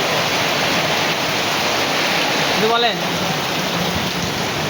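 Steady heavy rainfall, a dense continuous hiss at close range with no pause, and a brief bit of speech briefly heard over the downpour.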